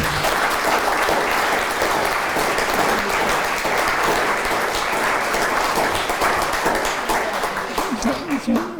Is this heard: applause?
yes